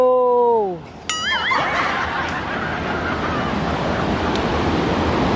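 Ocean waves wash up on a sandy beach in a loud, continuous rush of surf. A short vocal sound like a laugh comes just before the surf takes over.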